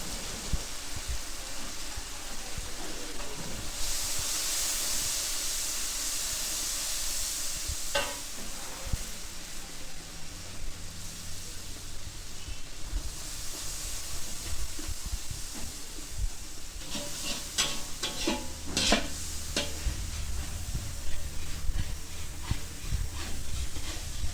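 Mustard paste seasoned with salt, turmeric and chili powder fries in a pan, giving a steady, close hiss and sizzle with intermittent stirring scrapes and clinks throughout.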